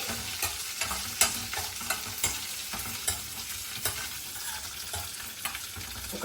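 Peanuts and lentils stir-fried in a pan for peanut chutney, with a constant dry sizzle broken by regular scraping stirs of a spoon, close and moderately loud.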